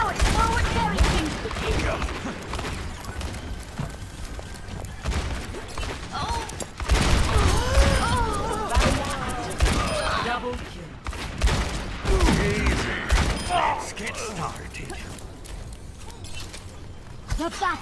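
Overwatch battle gunfire, dense rapid shots and impacts running almost continuously at high volume, mixed with voiced game callouts and effects throughout.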